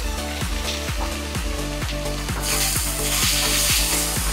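Tomatoes hit ginger-garlic paste frying in hot oil for a prawn and ridge gourd curry, setting off a loud, steady sizzle that swells as the pan fills, with a rhythmic tonal tapping running underneath.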